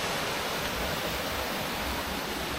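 Small waterfall at Sarika Waterfall in Nakhon Nayok, a steady broadband rush of falling water, loud and unbroken with no voices.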